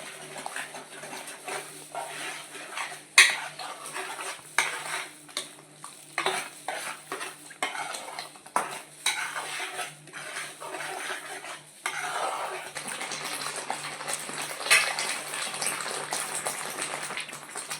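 Crab curry with turmeric and salt being stirred in a pan, a spoon scraping and clinking against the metal in irregular strokes over a faint steady sizzle, close and fairly quiet, with no talking.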